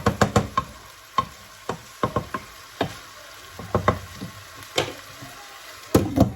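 Onion cooks in oil and sauce for chicken rfissa, with a low simmering bubble under a series of sharp, irregular knocks and clatters of a utensil against the pot, close and fairly loud.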